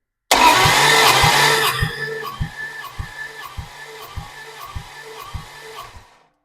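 Plymouth Duster Slant 6 engine cranking on the starter during a compression test with oil in the cylinder, a loud whir that settles into a steady rhythmic chug of regular compression pulses before stopping.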